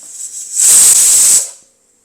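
A pressure cooker of mutton chukka vents steam with one sharp, loud whistling hiss lasting about a second, rising quickly and then fading to quiet.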